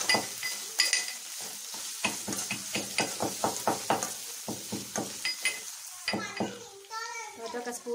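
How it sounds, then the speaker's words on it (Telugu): Crushed cardamom, cinnamon and cloves hit hot oil in a tempering for an Andhra-style meal maker masala, giving a run of short crackling sizzle bursts with stirring. A voice and brief talk come in near the end. "ఇలాచి దాల్చిన లవంగాలని కొంచెం పచ్చపచ్చగా దంచి పోపులో వేయాలి"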